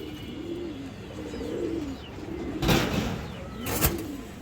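Fancy pigeons cooing at a pigeon sale in soft, repeated rolling calls, with a couple of sharp clattering noises breaking in near the end.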